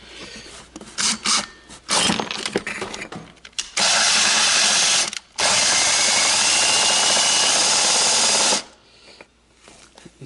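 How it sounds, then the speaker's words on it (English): A power drill with a hole saw cuts a tweeter hole into a 2008 Toyota Tundra double cab. Short bursts come first, then two long, loud grinding runs with a brief pause between them, close and with no talking. "alright, let's drill this puppy out"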